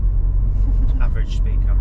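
A steady low engine and road rumble fills the inside of a moving car, running continuously beneath a person talking.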